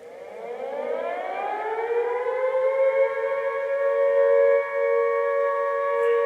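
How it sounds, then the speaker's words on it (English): An app-generated air raid siren winds up slowly from a low growl to a sustained steady wail, moderately loud and continuous with no voices. "you've got air and air raid siren there"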